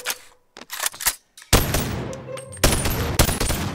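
Gunfire in the Bonelab VR game: a few sharp separate shots early on, then loud dense bursts of rapid fire close by, with short gaps between volleys.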